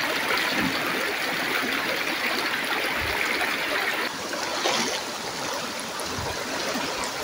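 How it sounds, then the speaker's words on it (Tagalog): Strong spring water rushes and gurgles continuously, a loud steady flow close by with no one talking. "kusog kayo ang suhog sa tubig"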